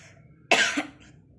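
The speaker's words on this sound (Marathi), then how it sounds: "खूप सारा खोकला येतोय" A child gives a single sharp cough close by, brief and forceful, then quiet.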